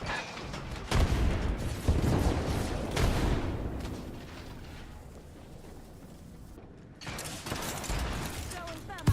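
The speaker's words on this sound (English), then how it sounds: "Throwing a frag." A frag grenade in a shooter game: sharp impacts and a burst of firing in the first seconds, a decaying rumble, then another loud cluster of blasts near the end, with a voice talking at times.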